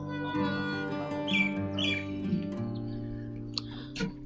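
Several birds chirp and sing in short scattered calls over a steady low hum, fairly faint and spread through the clip, in the morning on a hilltop at Srisailam.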